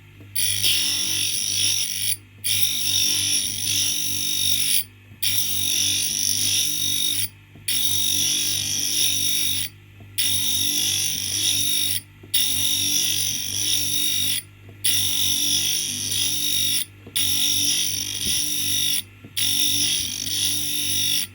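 A grinding wheel regrinds an involute gear cutter tooth by tooth in steady passes of roughly two seconds, each ending in a brief pause, with a constant low motor hum running beneath.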